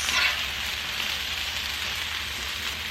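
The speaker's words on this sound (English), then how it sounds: "I'm not trying to cook this meat through. I'm really just trying to get kind of a sear on it." Meat searing in a hot pan for Swiss steak, a steady close crackling sizzle that stays fairly quiet and even throughout, with a slightly louder burst at the very start.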